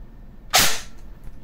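An airsoft Daniel Defense MK18 rifle fires a single sharp, snappy shot, a short crack that fades quickly against a quiet background, with no voices.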